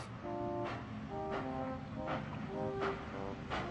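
An animated steam engine puffs slowly forward inside a dark old mine tunnel: regular rhythmic chuffs about every three-quarters of a second over a sustained tonal hum, close and moderately loud, without speech.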